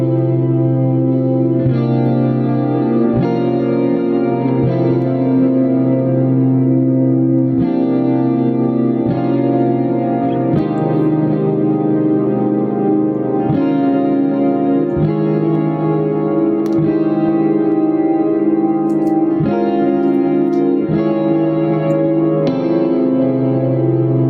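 Electric guitar rings out slow, sustained chords drenched in spacious, floaty reverb and delay, each change washing into a long smeared tail, loud and continuous with no talking.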